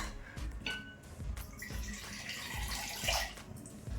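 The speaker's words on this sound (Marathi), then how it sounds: "मला हे थोडंसं ठीक वाटतंय म्हणून मी थोडंसं अजून पाणी घेते" Water is poured into a pot of simmering tomato soup, a quiet splashing, gurgling stream running for a few seconds, close and soft with no talk over it.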